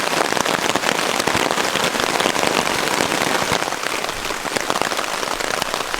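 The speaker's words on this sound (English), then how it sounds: "So it's still raining pretty hard." Heavy rain drumming on a tarp during an overnight campout, loud dense patter close by, constant and unbroken with no voices.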